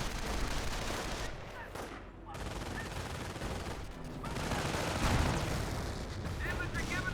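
A Company of Heroes 1 anti-tank gun fires amid a dense rumble of battlefield gunfire and explosions, with a sharper report standing out near the middle and a narrator talking over the continuous din.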